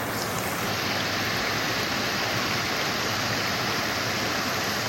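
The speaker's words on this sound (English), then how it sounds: "Pretty cool waterfall." Waterfall near the Delaware Water Gap, a dense continuous rush of falling water filling the whole clip, steady and fairly loud with no voices.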